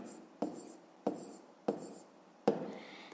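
A pen writes a fraction by hand on paper during a fifth-grade maths exercise. Four soft scratching strokes are spaced about a second apart, quiet and close, with no talk.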